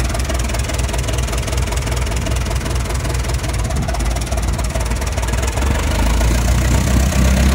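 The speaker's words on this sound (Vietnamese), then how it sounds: "bây giờ chúng tôi chạy cho bà con xem cái động cơ nó hoạt động luôn" Kubota M6970 tractor engine, a Japanese 69-horsepower four-wheel-drive model, idling steadily nearby. It makes a continuous low rumble with a knocking diesel throb and vibration, and no one speaks over it.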